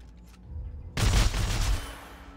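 A weapon fires in the sci-fi shooter Dead Space 3 during co-op play: a single loud, broadband burst with a heavy low thump and a short crackling decay, preceded by faint background game ambience.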